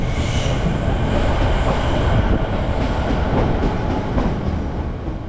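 A Melbourne express train speeds past close by, its loud, steady rumble and clatter of wheels on rails filling the whole stretch without a break.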